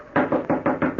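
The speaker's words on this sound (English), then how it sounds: "I knocked on the stable door." Five firm knocks on a wooden stable door in an old radio drama, evenly spaced and close, ringing out alone with no voices.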